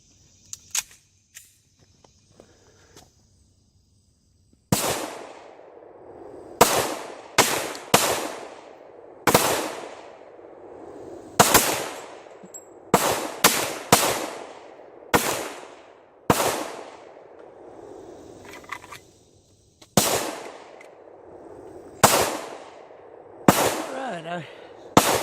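Pistol shots at a 25-yard range, a 200 grain Lee round flat bullet loaded over 3.6 grains of Alliant Clay Dot shotshell powder: about fourteen sharp, loud cracks fired one by one at irregular intervals, each with a short decaying echo.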